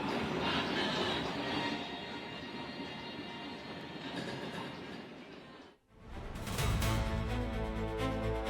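A train on the 77.8-kilometre Gilgil–Nyahururu metre-gauge railway in Kenya rumbles steadily and loudly nearby, with a brief dip before the noise swells again, carrying rolling wagon and track sounds.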